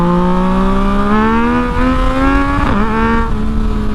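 A Yamaha MT-09 motorcycle engine revs loud and close, its pitch climbing steadily before a sharp blip and brief dip near the end, with no talking over it.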